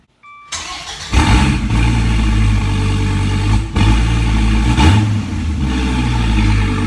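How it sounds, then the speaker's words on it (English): A 2017 Dodge Viper ACR Extreme cold-starts with a starter whir, then its big engine catches with a loud burst and settles into a deep, rumbling high idle with a couple of small blips. "let's get a cold start."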